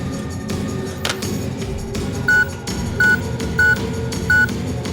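A telephone is dialed to call the police in a Telugu movie scene. Four evenly spaced, clear dialing beeps sound over a constant low background hum.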